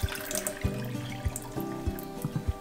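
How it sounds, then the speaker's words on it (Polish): Water is poured off soaking sprouts in a glass jar: a light, uneven trickle and splash with a few small drips, fairly quiet and heard alone. "Po tym czasie odlej wodę"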